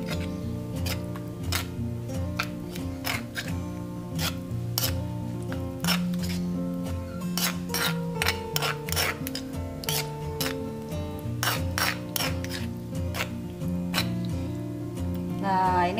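Tempe sambal is stirred after hot oil is poured in, with a utensil clinking and scraping steadily against a pot or mortar under a background music track.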